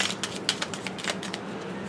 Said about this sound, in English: we'll do a little shuffle and then we'll cut